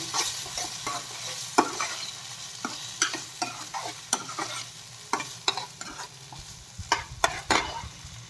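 Fried chilli potato chips being tossed with chaat masala in a pan, a repeated series of crisp spoon scrapes and clacks over a low sizzling hiss, close and irregularly spaced, with no speech.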